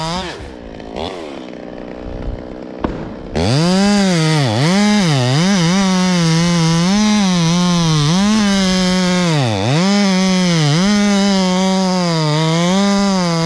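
Holtzforma G11 chainsaw, a Stihl MS200T clone, bucking a large felled tree into short log lengths, loud and close, with the engine revving up and dipping repeatedly as it bites through the wood after a quieter idle start.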